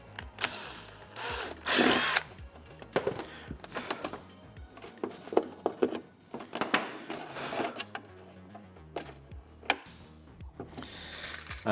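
A power drill drives a small 4BA screw through the outer shell and faceplate of a TIE pilot helmet, with short whirring bursts and stop-start spins up close, separated by quiet handling noises.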